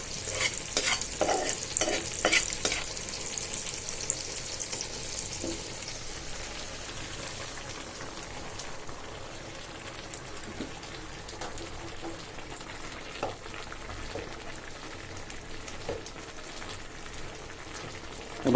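A curry of dried fish, beans, aubergine and potato sizzles steadily in the pan while a spatula stirs it in repeated scrapes. The scraping is busier at first and the frying continues alone toward the end, with no talking.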